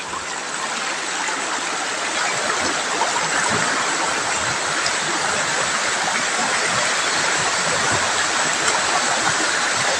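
Strong flood water rushes through a rocky river, a dense continuous roar of turbulent water, loud and steady throughout with no voices.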